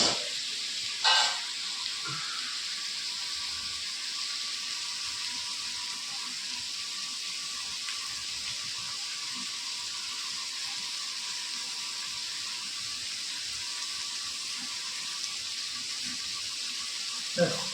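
A steady, even sizzle of onions frying in ghee in a pan for chicken, continuous hiss throughout with a brief louder clatter near the start.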